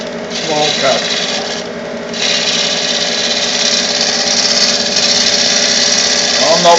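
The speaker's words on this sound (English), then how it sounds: "By the cup, I'm just taking small cuts." Wood lathe at work during rough turning, a gouge taking small cuts with a steady scraping, rasping hiss over the motor's hum, close and continuous, with a brief dip partway through.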